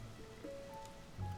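Steady rain falls in Tears of the Kingdom as a soft, even patter on surfaces, moderately close and continuous, with faint tonal game sounds sitting over it.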